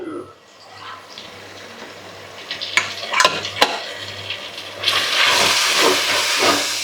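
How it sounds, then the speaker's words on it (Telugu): Fresh curry leaves hit hot oil in a pan of gongura prawn curry. A close, loud sizzle and hiss burst up, with a few sharp stirring scrapes and clinks before the frying noise swells and holds steady. "మంచి ఫ్రెష్ కరివేపాకు, చెట్టు కరివేపాకు వేస్తున్నా"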